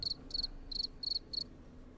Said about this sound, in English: Nobody cares about your crickets, Jalvin.